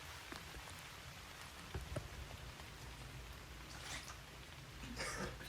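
Steady rain falls on a surface while travelling, a dense continuous hiss with scattered drop impacts and a few louder splashes near the end, close and alone with no talking.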